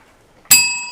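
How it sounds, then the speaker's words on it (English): A bell rings once, a bright metallic strike that rings on and decays, loud and close after near silence. "That's the point bell."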